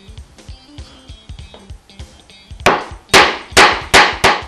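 Chisel chopping a small recess for a wooden housing joint: light taps at first, then a series of five or six sharp, loud mallet strikes on the chisel at a steady rhythm, close by.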